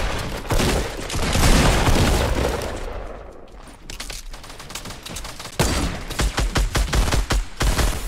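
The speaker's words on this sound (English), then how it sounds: "Oh, we're getting shot." Rapid bursts of gunfire in the video game Fortnite, loud and dense at first, easing off, then returning as a quick string of close shots.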